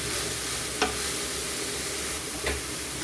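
A spoon stirs diced potatoes and peas into a spiced samosa filling seasoned with chilli flakes and salt, two brief scraping strokes rising over a steady background hiss, close and fairly quiet with no talk.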